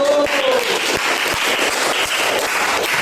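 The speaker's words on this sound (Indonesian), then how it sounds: "tepuk tangan untuk kelompok 1" Classroom applause for a student group at an Islamic primary school, a steady burst of clapping from many hands, loud and close, sustained for a few seconds with no talking over it.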